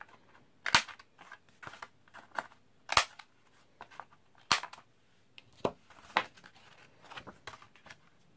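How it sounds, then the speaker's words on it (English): An X-cut corner punch clicks crisply as it rounds the corners of card stock, a series of sharp close snaps in an irregular rhythm with softer handling rustles between them, no talk. "X-cut corner punch."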